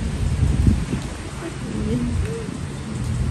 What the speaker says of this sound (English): It's raining, stormy.